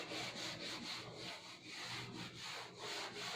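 Writing being rubbed off a classroom board, a steady rhythmic swishing scrape repeated back and forth, close and continuous at moderate level with no voices.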